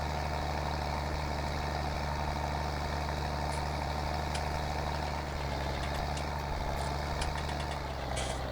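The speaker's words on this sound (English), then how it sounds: "Tractor really does sound nice throaty noise to it." A tractor engine in Farming Simulator 19 runs with a steady, throaty low drone and a constant even hum, loud and close, with faint clicks near the end and no speech.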